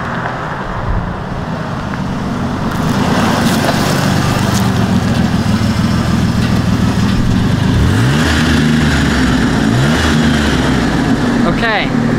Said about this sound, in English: I think I hear their truck